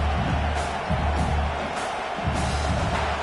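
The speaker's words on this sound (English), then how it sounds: "This crowd trying to make life miserable for this offense." Stadium crowd noise from a football video game fills the scene as a dense, steady roar with faint swells of cheering throughout.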